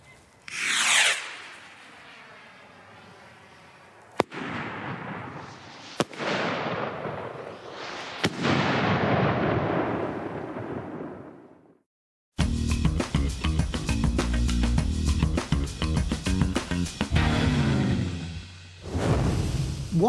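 A firework rocket fired from a rocket rack gives a sharp whoosh, then a long hissing, crackling burn punctuated by a few loud pops, followed by a dense rapid crackle of many small bursts.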